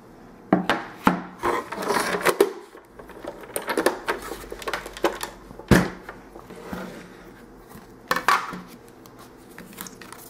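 A Big Shot embossing machine cranks a card through its rollers in several passes for a deep emboss, giving close, uneven creaks, rubbing scrapes and sharp clicks, with quieter pauses between passes.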